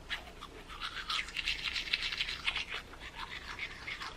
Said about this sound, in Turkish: Bir de diş fırçasıyla deneyeceğim şimdi.